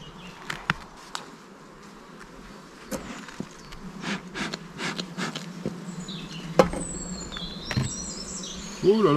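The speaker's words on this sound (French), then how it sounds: "Voilà, donc là on est sur les deux essaims récupérés chez un collègue" Two captured honeybee swarms buzz as a faint, continuous hum with scattered sharper bee passes close to the microphone, and a few bird chirps come through near the end.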